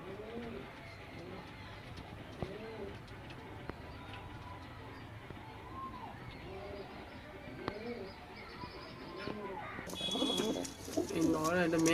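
Pigeons of the Arshad line at a seller's loft in Behala coo repeatedly in soft, rounded phrases through the clip, with someone talking nearby and a brief rustle near the end.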